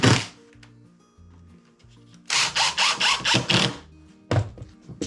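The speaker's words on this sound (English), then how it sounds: "Now I'm going to put these screws back in here" A power drill drives screws into wood during snow pusher wing repairs, heard as several close, loud bursts of whirring with thunks and short pauses between them, and no talk.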